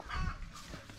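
A chicken gives a few faint, brief clucks close by in a quiet outdoor setting.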